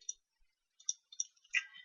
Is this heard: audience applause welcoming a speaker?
no